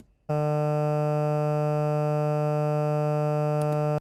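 A looped animal call makes a steady, unchanging buzzy tone that starts abruptly and holds, rich in harmonics like a synthesizer drone, with a couple of faint clicks near the end.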